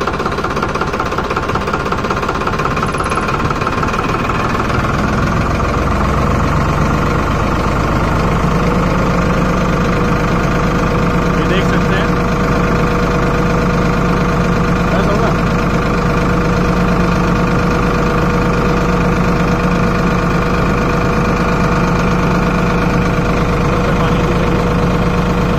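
A Farmtrac 60 tractor engine idles steadily and loudly at close range, a continuous low rumble with a faint rattling knock and no voices.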